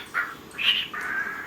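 A pet bird in its indoor cage gives three loud, harsh squawks in quick succession, close by and with no talk over them.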